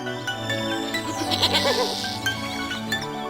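A cartoon goat bleats repeatedly in a wavering, nasal run with a musical score playing underneath, the call loud and close throughout.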